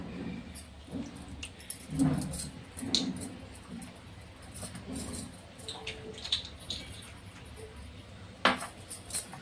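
A homemade soap mixture of coconut, almond and sesame oils is stirred in a bowl, with scattered clinks and scrapes of a utensil against the bowl, irregular and moderately quiet.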